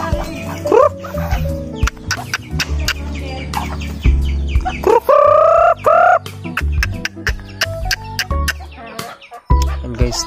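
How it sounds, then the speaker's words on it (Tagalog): Backyard chickens, joined by a duck, cluck and squawk loudly and close while being fed ground corn, with busy overlapping calls, some rising cackles and scattered pecking clatter. "patukan na tayo ng manok."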